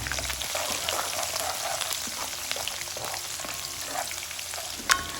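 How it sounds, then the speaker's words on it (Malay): Sliced aromatics for pineapple curry fry in hot oil, giving a steady, dense sizzle with crackling pops throughout. A brief sharper clink of utensil near the end stands out above the hiss. "panaskan minyak. Segala bahan-bahan hiris tadi tu yang Cik Liz tunjukkan mula-mula, campak aja semua, dan kita tumis sampai wangi"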